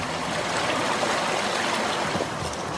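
A river beside a drinking-water reservoir near the Crouzille pond flows in a steady, dense rush of water, close and even throughout with no talk.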